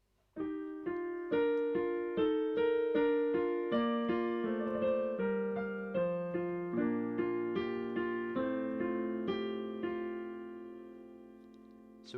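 Piano plays a slow passage: a steady sequence of distinct single notes and sustained chords, close and clear, ringing alone for about twelve seconds.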